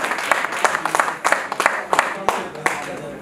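Hall audience clapping, fairly close, with distinct sharp claps standing out over a crowd background and a voice faintly present throughout.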